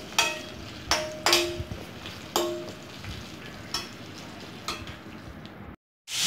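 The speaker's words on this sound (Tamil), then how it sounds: "கிழங்கு போட்டுட்டு எண்ணெயில் வறுத்து எடுத்துக்கலாம்" Potatoes fry in hot oil in a kadai for a mixed vegetable masala, giving a steady crackling sizzle punctuated by several loud metallic clanks of a spoon against the pan, then a brief dropout near the end.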